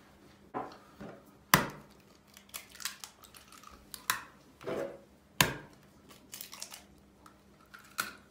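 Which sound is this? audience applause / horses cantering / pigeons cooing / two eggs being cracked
two eggs being cracked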